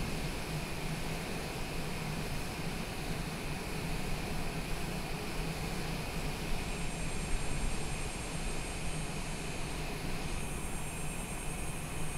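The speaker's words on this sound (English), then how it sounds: "That is Trent Palmer's airplane" A small airplane's engine in the Microsoft Flight Simulator 2020 game drones steadily and evenly throughout, a continuous hum with no talking.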